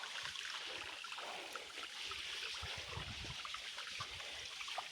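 A shallow stream, partly dried out by drought, trickles and burbles steadily with soft, close splashes and gurgles in a quiet outdoor setting.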